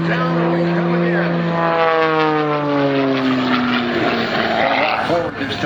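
Aerobatic propeller airplane performing a roll at an airshow, its engine droning loudly and continuously with a sliding pitch as it maneuvers overhead.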